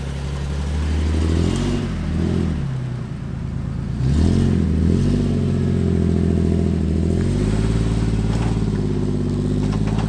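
Jeep Wrangler fitted with a new 5.38 Revolution gear set, its engine droning and revving as it drives off-road at Clifton 4x4, with a steady loud close rumble, brief throttle surges and occasional clatter, no talking.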